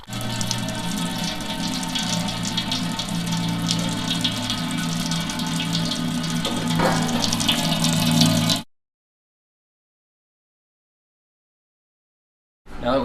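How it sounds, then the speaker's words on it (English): Homebrew beer wort recirculates through the grain bed as a continuous splashing, gurgling pour with a low pump-like hum, loud and steady for about eight seconds before cutting to silence, then resuming briefly. "Comes out a little cloudy at first, but as we recirculate it, it'll clear up."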